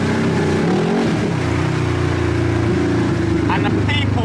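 Very loud car engine drones and revs on a London road, a heavy low roar that swells briefly early on and then holds steady, with brief high sounds near the end.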